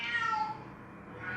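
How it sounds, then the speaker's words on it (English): A deaf cat meows in a drawn-out, wavering cry that rises, fades and returns near the end, fairly close and clear with no talking. "That's my cat."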